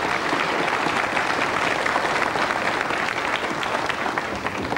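Studio audience at the West German talk show "3 nach 9" in 1986 applauds a singer, a dense, steady wash of many hands clapping at close range, loud and even throughout with no voices over it.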